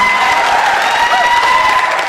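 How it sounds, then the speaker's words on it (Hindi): Loud, sustained applause from an audience at a Hindi comedy poetry recital, a steady wash of clapping with faint crowd noise and a few tonal hums running under it throughout. "ताली एक बार जोरदार बजा दीजिए तो मैं शुरू हो जाऊं"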